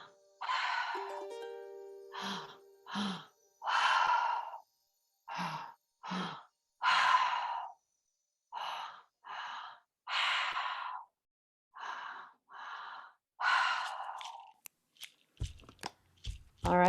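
Slow, deep breaths in and out during a guided breathing exercise, close and fairly quiet, repeating in a steady series of long breaths separated by short silences.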